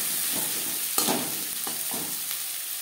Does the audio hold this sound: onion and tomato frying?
yes